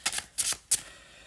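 Tarot cards being shuffled by hand up close, three quick crisp riffling bursts with short pauses between, and no talking.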